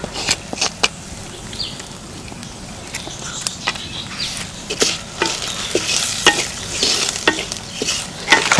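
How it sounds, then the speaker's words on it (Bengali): Whole spices, including bay leaf, cinnamon, cumin and green and black cardamom, fry without oil in a pan while a spoon scrapes and stirs. Irregular clicks and scrapes ring out close by over a soft sizzle. "সকল মশলার উপকরণ কিছুক্ষণ যাবত আমি এভাবে ভেজে নেব"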